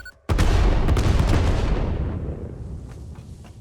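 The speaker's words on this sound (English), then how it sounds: "Blows up the stupid vents so that I don't have to worry about it." A single loud explosion in the video game Satisfactory as charges blow up vents: a sharp blast followed by a long rumbling, crackling decay that fades over a few seconds.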